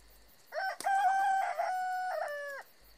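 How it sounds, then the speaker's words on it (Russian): A rooster crows once, a clear, loud cock-a-doodle-doo rising and then holding a long, drawn-out final note, close by and alone with no talking. "запел петух."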